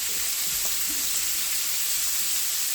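Shrimp frying in a pan, a steady close, bright sizzle that holds evenly throughout with no talk.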